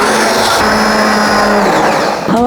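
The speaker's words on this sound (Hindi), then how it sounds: "हमें प्यूरी मेकर से इन्हें ग्राइंड कर लेंगे" A puree maker grinds boiled apple, onion and garlic, a loud, close, high-pitched motor whir that holds steady and then shifts pitch as the load changes near the end.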